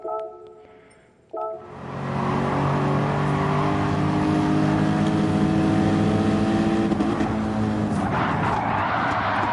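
Race car in Gran Turismo 7 brakes very late: a loud, sustained engine drone with strong tonal harmonics follows a brief low idle, with tyre scrub and skid noise building near the end.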